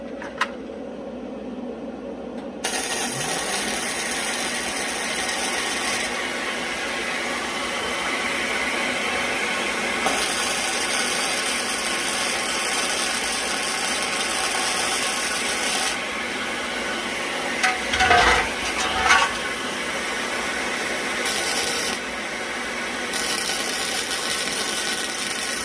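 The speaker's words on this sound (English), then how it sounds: "So let's see how good of a job this thing does actually extracting the fumes while I weld." Welding near a Lincoln Mini Fume X-tractor set very close to the workpiece, a steady broadband hiss and crackle with the extractor's whooshing airflow running continuously underneath, loud and close throughout.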